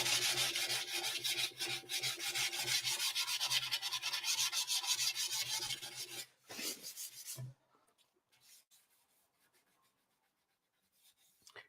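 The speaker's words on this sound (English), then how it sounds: "240 on this little sanding block." A 240-grit sanding block rubs steadily across a metal tank in a close, rasping back-and-forth rhythm for several seconds, then stops, leaving near silence with a few faint handling noises.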